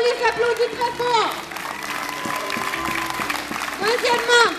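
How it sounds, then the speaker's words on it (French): Audience applause at a medieval armoured combat show in Fontaine-Guérard, a loud outdoor crowd clapping steadily for about four seconds, with an announcer's voice and children's voices over it at the start and end. "Applaudis très fort."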